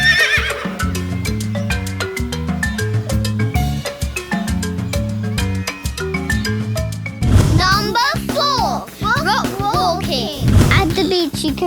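A horse neighs and whinnies over bouncy, playful music, with a couple of louder whinny bursts toward the end.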